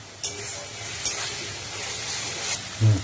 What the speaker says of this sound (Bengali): তেল থেকে মশলাটা ছেড়ে এসছে। আর খুব ভালো করে নাড়াচাড়া করি